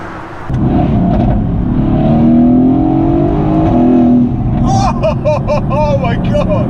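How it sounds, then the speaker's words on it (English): A Renntech-tuned Mercedes-AMG GT S engine revs hard, its note climbing steadily up the rev range and staying loud and close, with a voice briefly audible near the end. "you build the noise up the rev range"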